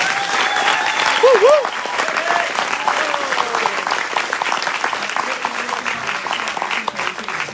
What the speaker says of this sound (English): A round of applause for Sam and Neil.